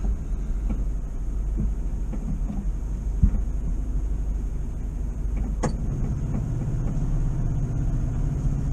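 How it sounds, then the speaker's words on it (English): A bus pulling away on the road, heard from inside a moving VW camper van as a low engine rumble beneath the van's own road noise, with scattered knocks and a brief thump partway through. "That's a bus. He's pulling away now,"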